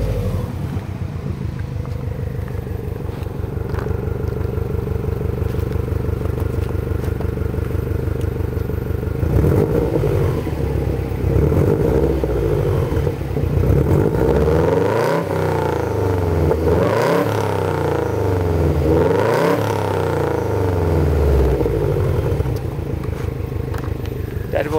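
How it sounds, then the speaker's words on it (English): A 2005 Subaru Impreza WRX with an APEX exhaust idles with a low burbling rumble, then revs repeatedly toward 4000 RPM in several rising and falling sweeps, loud and close. "That was revving it up only approximately to the 4000 RPM."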